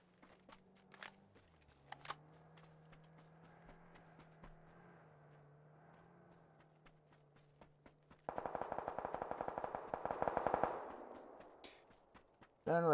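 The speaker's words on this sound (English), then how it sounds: "Oh, that was a pistol." Pistol fire in the battle royale game PUBG, heard as a rapid, evenly spaced run of sharp shots after a long stretch of low droning hum, fairly close and without talk.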